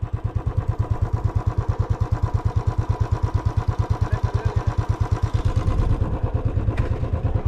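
Motorcycle engine on an off-road hill ride, a steady rapid thumping idle pulse running loud and close throughout, with a slight surge in revs near the end.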